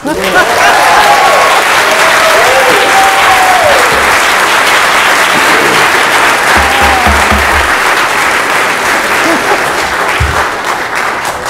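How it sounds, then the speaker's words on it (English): Loud, sustained applause fills a city council chamber in Mobile, Alabama, a dense crowd clapping evenly for the full stretch, with a few voices calling out over it. "I think that did deserve some applause."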